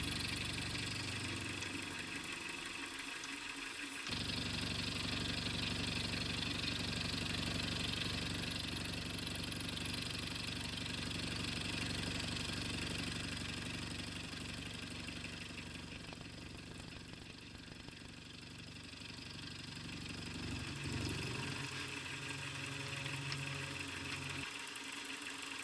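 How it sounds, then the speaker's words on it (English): Aluminum being milled with 2-flute end mills on a machine, a steady loud whirring drone that holds unbroken for most of the stretch and dips briefly near the end, with no talk. "All this milling is being done with 2 flute end mills, which work good for aluminum."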